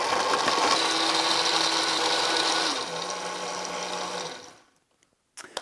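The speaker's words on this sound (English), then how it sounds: "now we are ready to finish the final blend. Put the lid back on, smash that on button" A blender whirs steadily at high speed blending a pecan pie smoothie, its pitch shifting partway through before the motor winds down and stops.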